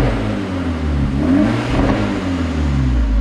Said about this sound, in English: Car's finally running nice.